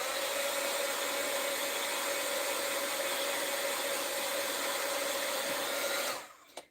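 Hair dryer blowing steadily at close range to dry a painted wooden block craft, a loud even whoosh with a constant hum, then switched off near the end.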